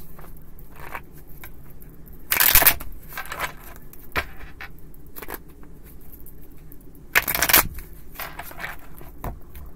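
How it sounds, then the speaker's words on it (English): Two short, crisp riffling bursts of a card deck being shuffled, a few seconds apart, with quiet room tone between them. "Two more shuffles."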